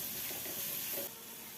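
Chopped tomatoes and crushed green masala being stirred and fried in a pan for vegetable pulao. A soft, steady close sizzle and hiss runs briefly with faint stirring, then drops slightly quieter.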